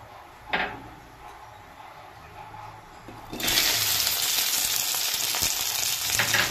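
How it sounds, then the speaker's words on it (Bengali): Okra dropped into a little hot oil in a wok on a gas stove: a quiet kitchen with one brief clink, then a loud, steady, close sizzle that holds to the end. "ভেন্ডিটা ভেজে নেব প্রথমে অল্প তেল দিয়ে।"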